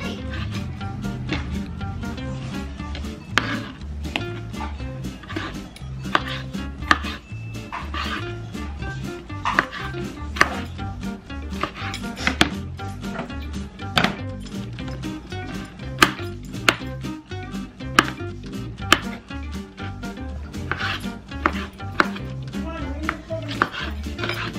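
Knife chops vegetables into little squares on a cutting board, a steady rapid run of close, crisp knocks lasting throughout, with occasional softer kitchen clatter.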